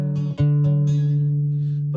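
A pipa fitted with metallic strings gives a bright, electric-edged twang: a few plucked notes ring out close and clear, with one note sustaining steadily underneath throughout.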